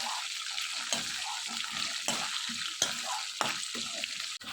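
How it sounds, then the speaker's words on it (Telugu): Dried red chillies fry and get stirred in hot oil in a pan while making pulihora pulusu, a steady soft sizzle broken by a few scraping stirs of a spoon, close and without talk. "కొంచెం వేగిన తర్వాత ఇందులోనే కొన్ని ఎండుమిరపకాయలు కూడా వేసుకొని వీటన్నిటిని కూడా ఇలా బాగా కలుపుకోవాలి."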